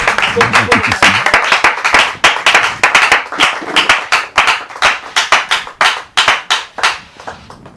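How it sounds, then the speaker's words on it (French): Congregation at a Sunday church service clapping and applauding, a steady run of loud, dense hand claps with a voice at the start. "Est-ce qu'on peut acclamer pour la parole?"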